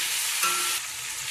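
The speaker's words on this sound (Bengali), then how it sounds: "তেলের সাথে ভালোভাবে পটলটা কষিয়ে নেবো।" Pointed gourd pieces fry and are stirred in hot oil for a Bengali pachan vegetable dish, a close, bright sizzle that flares briefly mid-way with a scrape of stirring, then settles slightly quieter.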